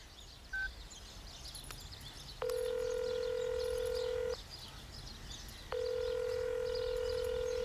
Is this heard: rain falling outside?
no